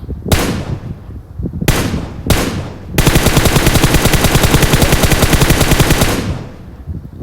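Gunfire in the mobile shooter BGMI: three loud separate shots, then a sustained rapid burst of automatic fire lasting about three seconds, sharp and close.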